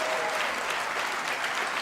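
A crowd at a State of the District event in Washington Heights, New York, claps in a steady, full round of applause for U.S. Senator Chuck Schumer, even and continuous throughout.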